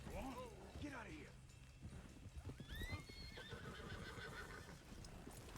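A horse whinnies and its hooves clop in the video game Red Dead, the neigh rising clearly before uneven hoofbeats, with a voice speaking in the mix.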